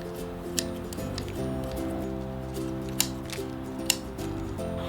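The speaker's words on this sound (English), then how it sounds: "take her garden shears and just kind of trim up the outside of the basket" Garden shears trim sphagnum moss around the outside of a hanging basket, giving a few sharp close snips over a steady humming background with faint rustling.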